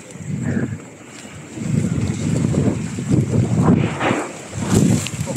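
Steady gusting wind buffets the microphone in a backyard garden with a low rumble that swells and fades, loud and close, with no voices.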